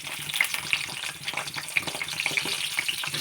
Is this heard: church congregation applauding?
no